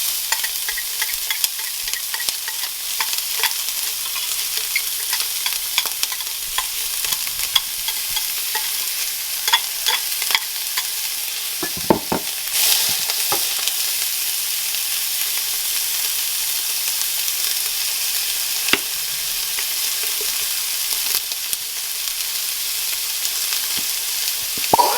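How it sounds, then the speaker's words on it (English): Onions, peppers and garlic cook with ground hamburger in a pan for lasagna sauce, a continuous sizzle with frequent stirring scrapes and a few sharper clatters, no talking. "I always cook the onions and peppers and garlic for a minute or two prior to adding the hamburger."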